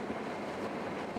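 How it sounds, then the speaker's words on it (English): A vacuum chamber's roughing pump for e-beam evaporation runs steadily, pumping down from atmospheric pressure toward high vacuum: a constant, even mechanical drone with a rumbling low end and no talk over it. "this is the sound of the roughing pump"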